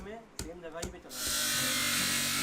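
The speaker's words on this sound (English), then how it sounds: "Then he shaves down the bone pieces with an electric sander." A voice speaks briefly before an electric sander starts up and whines continuously at close range, shaving down bone pieces in a bone carving workshop in India.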